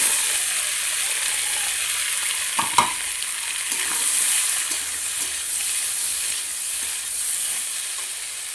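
Boiled potatoes frying in a pan, a continuous bright sizzle with a couple of sharp stirring clacks early on, close and steady with no talking.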